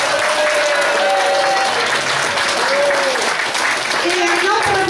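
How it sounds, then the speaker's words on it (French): A crowd at a leather fashion show in Malgrat de Mar, Spain, applauds the models with loud, sustained clapping, while a few voices and cheers rise over the ovation. "Un applaudissement pour nos mannequins"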